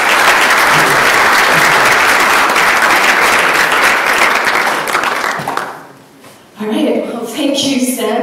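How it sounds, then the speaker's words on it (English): A conference audience gives loud, sustained applause for about six seconds at an opening session, then it fades and a voice begins talking. "So can we just give her a huge round of applause?"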